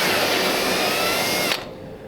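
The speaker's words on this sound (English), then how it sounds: "I take this little carbide burr with a blunted tip, and I like to stick it in there and actually just hit the trigger a little bit" A small blunt-tipped carbide burr in a handheld power tool grinds primer off inner door sheet metal on a 1930 Ford Model A roadster, a close, steady high whine for about a second and a half before it cuts off abruptly.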